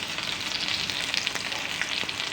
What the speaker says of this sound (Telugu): ఫ్రై చేసుకుంటూ ఉండాలి మధ్య మధ్యలో కలిపితే చాలా ఫాస్ట్ అయిపోతుంది ఇది ఇలా అంతా వేగాలి